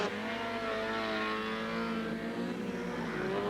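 Honda CRX race cars in a 1989 championship race at Donington Park, caught lapping a slower car, roar steadily with engine tones rising and holding, loud and continuous throughout.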